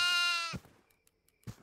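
A goat in the horror video game Devour gives a single loud, wavering bleat lasting about half a second, followed by near silence and a brief soft thump.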